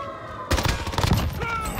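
M4 rifle fire in Call of Duty, a quick close burst of shots starting about halfway through, with faint background game noise and no clear talk.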